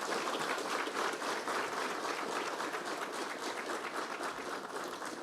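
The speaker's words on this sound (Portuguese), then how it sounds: "uma salva de palmas ao Pedro Bisoli" Audience in a state legislative assembly giving a round of applause to an honoree, dense, continuous clapping from a crowd at steady volume throughout, with no speech on top.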